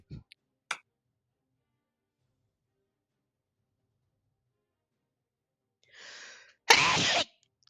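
A single sharp sneeze bursts out loud and close after a quiet pause, preceded by a short inhaled gasp and, much earlier, a few faint clicks, during a tabletop role-playing game session.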